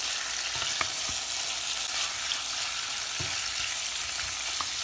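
Minced garlic and ginger, along with sliced onion, sizzle and fry in a pan while being stirred, giving a loud, continuous crackle with a few soft scrapes and clicks.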